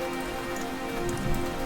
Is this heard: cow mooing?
no